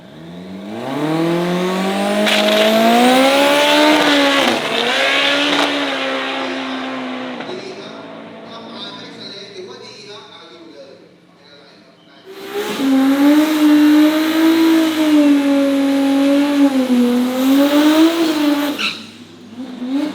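A drag racing car in Thailand launches and accelerates with a loud, close engine roar climbing in pitch. It fades briefly, then a second hard acceleration howls in strongly.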